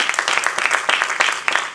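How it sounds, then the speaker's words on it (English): A church congregation claps their hands together in quick, rhythmic bursts, close and fairly loud, with a few voices faintly underneath. "Clap your hands to the Lord."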